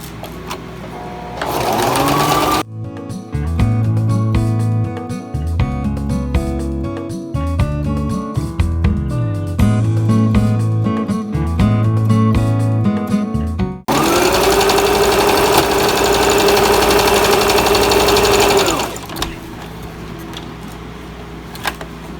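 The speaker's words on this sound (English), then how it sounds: "So we're going to sew these together." A sewing machine stitches quilt block pieces together in loud, rapid bursts of mechanical whirring, pausing briefly between runs, then one long sustained run before stopping.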